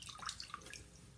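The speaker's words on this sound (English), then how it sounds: "The idea is really squeezing most of the water out." Water drips and trickles from a squeezed handful of recycled paper pulp, a few faint, quick wet drops close up in a quiet room.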